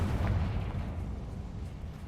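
The Confringo spell goes off in Hogwarts Legacy, a booming fiery blast with a low rumble that gradually fades over about two seconds.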